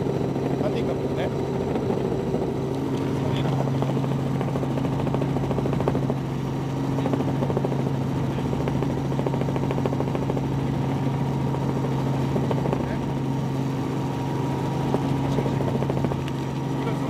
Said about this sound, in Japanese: ヘリの爆音